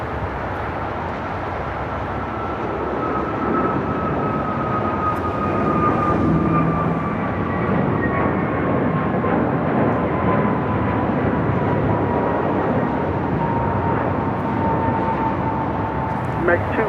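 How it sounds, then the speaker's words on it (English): An American Airlines A321neo jet takes off from LAX, a steady broad engine roar with a slowly falling whine sustained throughout, moderately loud and distant. "Next takeoff, flight heading to Kahului, A321neo, American Airlines Flight 271"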